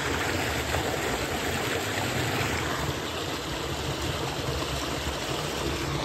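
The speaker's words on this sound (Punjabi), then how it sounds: "ਇੱਧਰ ਮੈਂ ਸਬਜ਼ੀ ਨੂੰ ਪਾਣੀ ਲਾ ਰਿਹਾ।" Water flows steadily through a field channel to irrigate vegetables, a constant, full rushing and gurgling that stays loud and unbroken with no voices.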